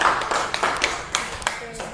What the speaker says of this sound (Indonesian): tepuk tangan dulu hasil dari kelompok 2